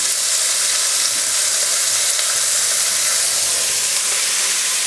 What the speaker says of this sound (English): So I'm just going to go in with the onions. In fact, I might put the celery in at the same time.